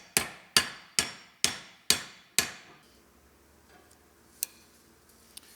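A hammer pounds a U-joint into a Dana 30 axle shaft, six sharp ringing metal blows in an even rhythm, close and loud, followed by a quiet stretch with a couple of faint clicks.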